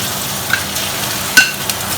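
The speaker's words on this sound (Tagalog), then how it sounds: "Kailangan po haluin po ito ng continuously ang paghahalo po." Flour-coated meat fries in a pan while being stirred continuously, a steady soft sizzle broken by a few brief scraping clicks, close and moderately loud with no talk.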